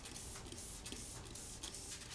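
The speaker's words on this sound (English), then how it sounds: "spraying the material with warm water from a spray bottle" A hand-pumped spray bottle mists warm water onto a popcorn ceiling, giving a series of short hissing squirts at close range with no talking.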